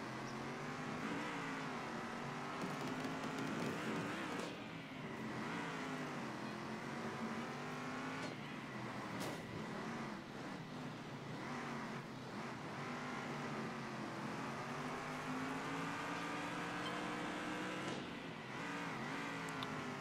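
Race car engines whine and rev in Circuit Superstars, rising and falling in pitch as the cars accelerate and brake through corners, a continuous layered buzz of several cars at moderate loudness with no talking.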